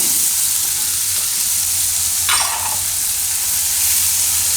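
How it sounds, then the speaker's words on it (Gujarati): Chopped onions frying in oil in a pan for a Gujarati methi bhaji gravy, a steady close sizzle with a brief hissing burst midway, no voices. "હવે એમાં આપણે ડુંગળી નાખી દઈશું. તો ડુંગળીને થોડીક વાર પાકવા દઈશું."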